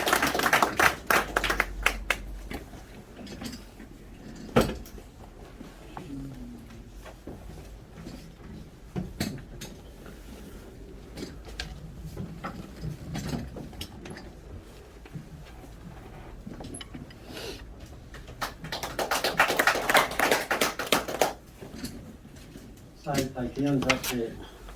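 At a forum on the April 19 Revolution, an audience claps in short bursts for a speaker coming to the stage. Talk fills the stretch between the opening and later rounds of clapping.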